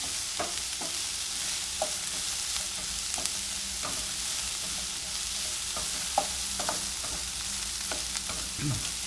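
Tempeh and sliced onions sizzle steadily in a pan over a medium flame, with regular scraping strokes of a utensil stirring them, close and clear with no talking.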